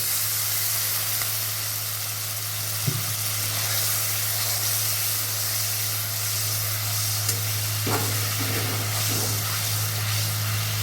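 Water poured onto fried spice paste for a brinjal katli makes a steady hiss and sizzle in the pan, with a few sharp clinks from a utensil, and no one talking.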